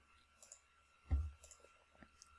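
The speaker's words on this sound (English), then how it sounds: "and then we're going to click on OK." A single computer mouse click on a software OK button, a soft, brief tap at close range against a faint steady room hum.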